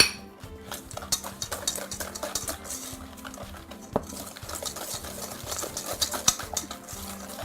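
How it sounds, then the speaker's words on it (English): Rhythmic clinking and scraping of a utensil whisking sugar and eggs in a bowl by hand, steady and close, with no talking. "And mix it till it's combined."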